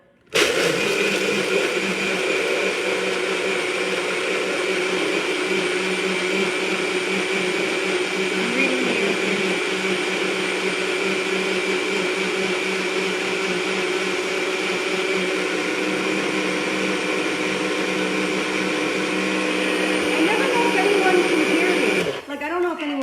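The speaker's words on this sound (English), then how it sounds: "now we are going to blend like there's no tomorrow" A NutriBullet blender runs steadily at high speed blending a protein shake for about twenty seconds, loud and close, a constant whirring roar that cuts off at the end.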